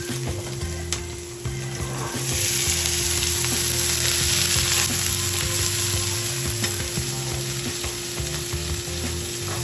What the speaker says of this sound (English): When you're cooking with garlic and onions, you want to make sure you brown the garlic and onions